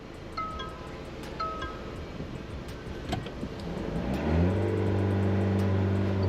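Mahindra XUV700 with a 2.2-litre M-Hawk diesel engine revs up from inside the cabin, wind noise rising as the windows go down; the engine note climbs steadily in the last two seconds with clear rising harmonics.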